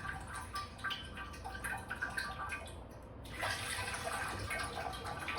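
Room-temperature water trickles through the coolant thermostat of a 2002 Land Rover Discovery 2, a faint, steady splashing that grows slightly fuller toward the end, with no voices.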